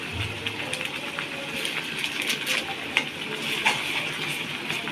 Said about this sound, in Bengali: বন্ধুরা, ভালো করে কষাই নিতে হবে যাতে গন্ধটা না থাকে।